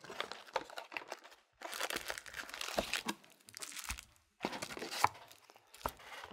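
Pokemon card booster box and pack packaging being torn open, with close, crisp crinkling and tearing in short bursts separated by brief pauses.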